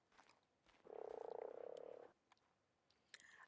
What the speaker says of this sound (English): There's a frog there.